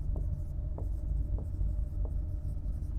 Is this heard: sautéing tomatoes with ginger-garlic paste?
no